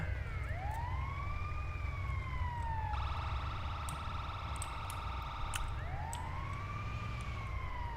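An ambulance siren wails in the video game Grand Theft Auto Online, a loud, continuous rising-and-falling wail that switches briefly to a faster warble partway through before resuming its long sweeps.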